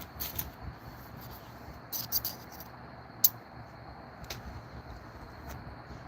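Crickets chirping as an added insect sound effect, a steady faint trill with a few sharper clicks and ticks scattered through, no talking.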